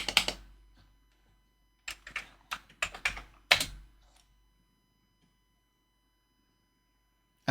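A cat walks across a computer keyboard during a livestream, producing irregular clusters of close key clacks and taps, with long quiet gaps between the bursts.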